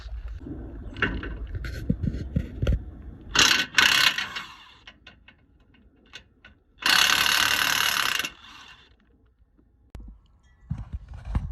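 A hand ratchet loosens bolts on the front end of a 2015–2020 Ford F-150 before a grille guard goes on, with short bursts of rapid clicking separated by pauses and small metallic knocks, heard close up.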